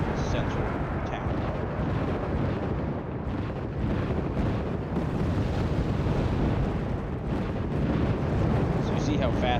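A mortar barrage in a military video game, shells pounding a BTR armored vehicle on a jungle map, heard as a continuous, loud, rumbling wash of overlapping blasts with no breaks, while a voice talks over it.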